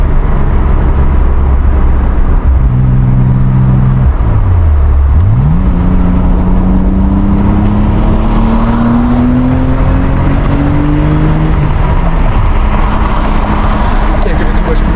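Nissan Z sports car engine heard from inside the cabin while driving through a highway tunnel, loud and close, rising and falling as it revs under boost, with a long climbing pull and gear changes. Someone talks over it.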